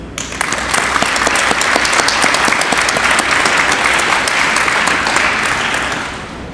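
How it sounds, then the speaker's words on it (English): An audience applauds at a military change of command ceremony for DLA Distribution, a loud, dense, sustained ovation of many hands that holds steady before tapering slightly at the end. "You deserve a round of applause."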